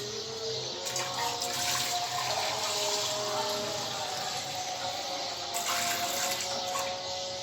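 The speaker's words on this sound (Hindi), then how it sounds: "तो अब इसमें डालूँगी पानी" Water pours steadily into a mutton pot being readied for a Peshawari namkeen gosht, a continuous loud gushing splash that runs throughout with slight surges, no talking.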